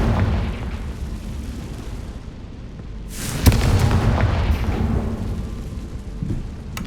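A Confringo fire spell bursts in the Hogwarts Legacy video game, a single sharp explosive boom with a crackling, rumbling tail that stays loud for a few seconds over a steady game background.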